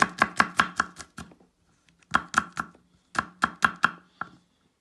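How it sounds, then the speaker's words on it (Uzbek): Garlic cloves chopped with a knife on a board while preparing meatball shurpa soup, heard as crisp, close, rhythmic strokes in three quick bursts of about four to six cuts each, separated by short pauses. "Chesnoklarimizni ham to'g'rab olamiz."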